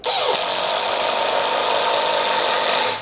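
An OSUKA OCID822 cordless impact driver drives a screw into wood in its wood mode. It starts slow, then runs as a loud, steady motor whine for about three seconds, close up with no talking.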